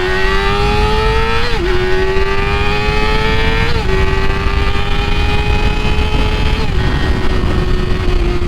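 A 2020 Yamaha R6 600cc sport motorcycle engine revs loudly and continuously, its pitch climbing in steady sweeps then dropping briefly at each shift, over a rough roar.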